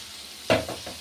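Chicken being stirred with about 200 g of sour yogurt in a pan for a chicken biryani, a single close scrape and sizzle burst that then settles into softer stirring noise.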